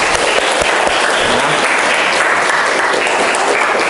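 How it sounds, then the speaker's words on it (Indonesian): A classroom of students applauds a classmate with steady, dense clapping that fills the room continuously, loud and close from start to finish. "Tepuk tangan buat Nabila"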